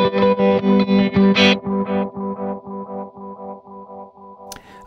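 Electric guitar played through a VOX StompLab processor's analog delay preset A4, a steady run of repeated chords with distortion, each strike trailing off into softer echoes for about five seconds, with no talking.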